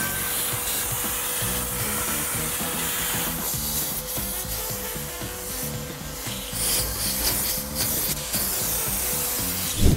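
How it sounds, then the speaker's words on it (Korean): A handheld vacuum at a self-service car wash sucks dirt, sand and debris from a car's interior, a continuous whooshing, rasping suction with scraping as the nozzle rubs along surfaces, close and loud, with no talk. "처음으로는 이 청소기로 안에 흙먼지, 모래, 큰 오염물들 먼저 전부 흡입해 주세요"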